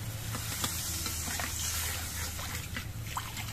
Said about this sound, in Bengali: এবার এর মধ্যে আমি ঝোল দিয়ে দিচ্ছি।